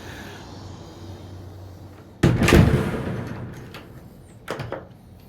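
A brand-new security door at the back of a house swings and shuts with one loud, close clatter and rattle, followed a couple of seconds later by a shorter, softer knock.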